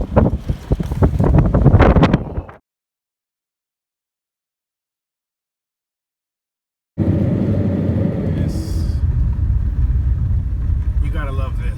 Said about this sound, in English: And this is how windy it is.